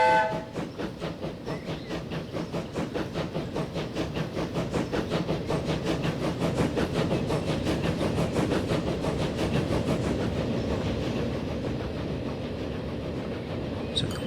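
A train pulls out of a depot in the video game Transport Fever 2, making a steady rolling rumble with fast rhythmic wheel clatter that holds at a loud, even level throughout, with no talking.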